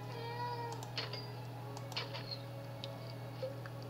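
A house cat meows a few times close by, short wavering cries over a steady electronic hum and faint computer game sounds, with no talking.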